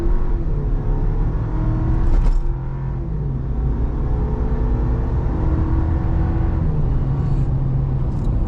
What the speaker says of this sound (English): when this light turns green, I'm not gonna floor it, but we're gonna get on it pretty good